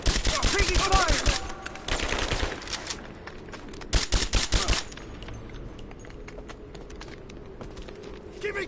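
Bursts of automatic gunfire in the video game Rise of the Tomb Raider, loud rapid volleys in the first half that fade to sparse distant shots, with voiced combat callouts mixed in.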